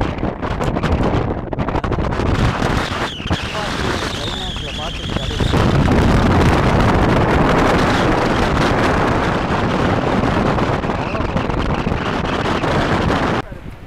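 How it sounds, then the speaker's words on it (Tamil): Strong wind buffets the microphone on the Dhanushkodi coast, loud roaring gusts that swell and surge for over ten seconds, drowning most other sound. "அப்பா ஐயோ, காற்று பயங்கரமாக அடிக்குது."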